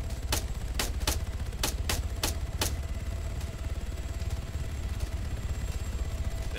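Gunfire in the military shooter game Arma 3: a quick burst of about seven sharp shots in the first three seconds, then a steady engine-like rumble carries on alone with no further shots.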